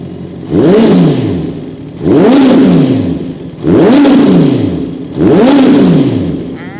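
A 2019 Honda CBR650R motorcycle engine revs up four times in a row, each burst climbing sharply and then falling back to idle, loud and close with no talking.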